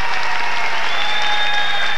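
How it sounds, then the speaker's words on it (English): An audience claps for performers at a 1980 polka concert at Irem Temple in Wilkes-Barre, Pennsylvania, giving a steady, loud wash of applause with a faint tone ringing above it. "give them a nice round of applause"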